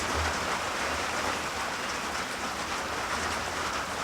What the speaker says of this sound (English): It is so nice sitting here and hearing that rain on that finished,